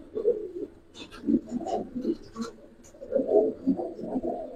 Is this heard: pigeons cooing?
yes